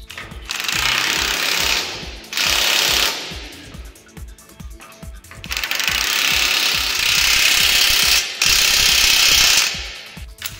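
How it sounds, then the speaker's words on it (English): Heavy-duty bolts are driven into the post and base plate of a TWIN BUSCH TW 125 F 1 single-post lift with a loud impact wrench, hammering in several long rattling bursts separated by short pauses. "Fix the post on the base plate with the black bolts."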